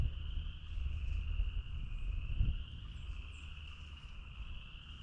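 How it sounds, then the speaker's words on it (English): Frogs calling in a swamp along a hiking trail at Harpeth River State Park, a steady high chirring chorus that holds faintly and evenly throughout, with no talk and a brief low rustle near the middle. "You can hear all the frogs,"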